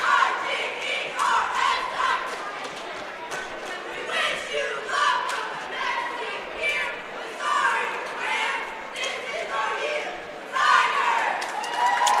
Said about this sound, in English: we appreciate them looking right into our camera to do that cheer